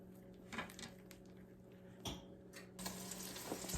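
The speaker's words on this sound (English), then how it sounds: "The hamburgers are still frying." Hamburger patties fry in a pan in a home kitchen, a faint steady sizzle punctuated by a few clinks of utensils against cookware, with a louder hiss near the end.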